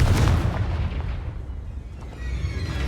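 A Confringo spell blast in Hogwarts Legacy lands as a heavy explosive boom, loud and low at the onset, then rolls into a lingering rumble that swells slightly again at the end.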